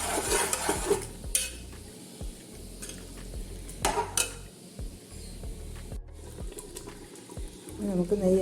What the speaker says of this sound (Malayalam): ഇപ്പോൾ കുറച്ച് തിളയ്ക്കാൻ തുടങ്ങിയിട്ടുണ്ട്